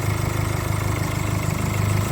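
A steady, low idle from a 2-litre engine in a 2020 Mercedes Vito 116 long van with automatic gearbox rumbles evenly and close by, a constant mechanical drone with no speech.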